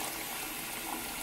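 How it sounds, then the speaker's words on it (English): Clean water pours into a washing-up bowl, a steady, dense rush of liquid that carries on evenly through the short moment, with no voices over it. "and put some more clean water in."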